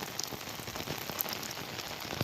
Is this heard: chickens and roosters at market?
no